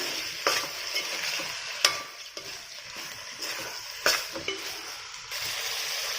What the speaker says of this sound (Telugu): బాగా కలుపుకుందాం.